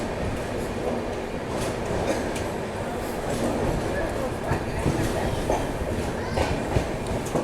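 Samarsata Express passing through a station without stopping, its steady, loud rail rumble and rhythmic wheel clatter running throughout with faint voices underneath.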